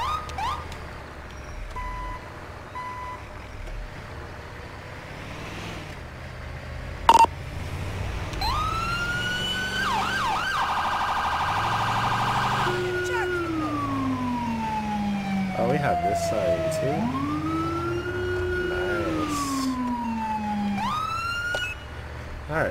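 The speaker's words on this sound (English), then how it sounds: "I love that siren." Wailing and yelping emergency siren from a paramedic ambulance in the video game GTA 5, loud and up close, sweeping up and down repeatedly over steady background engine hum, with brief electronic tones early on.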